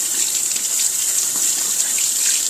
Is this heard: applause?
no